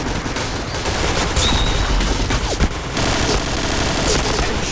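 Rapid gunfire bursts in a first-person shooter video game, a dense sustained fusillade of shots crackling close and loud for several seconds with no pauses.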